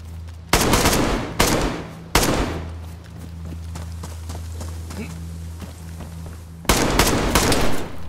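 Loud bursts of gunfire in the survival shooter DayZ, three sharp volleys close together early on and another burst near the end, over a steady low engine-like hum.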